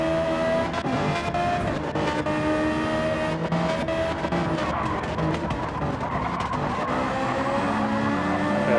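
GT3 race cars at Watkins Glen in a racing video game: continuous, loud, layered engine whine with shifting pitches, laced with tire squeal and skidding throughout.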